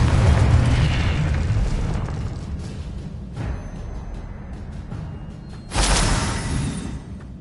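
Confringo blasting spell explosions in Hogwarts Legacy, a loud booming burst at the start that rumbles and fades, followed by a second sharp blast near the end, with no speech.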